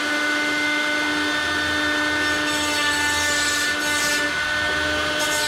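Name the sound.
deburring edges of RV-7A aircraft firewall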